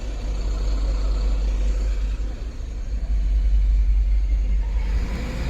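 Heavy diesel tipper trucks unloading tar mix during night road tarring work on the NH66 highway, a constant deep engine rumble and idle close by, steady throughout with a slight surge near the end and no talk.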